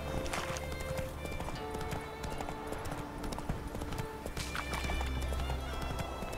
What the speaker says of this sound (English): Wild horses, apparently.